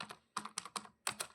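Fingers tap an HP computer keyboard in short, irregular bursts of crisp clicks, about seven keystrokes close up in a quiet room.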